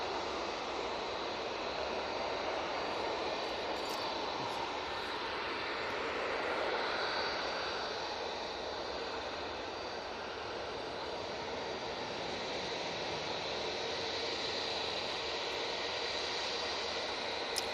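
A Ryanair jet airliner on its landing rollout gives a steady, broad engine roar with a hissing, washing texture, moderately loud and unbroken for the whole stretch, with no voices.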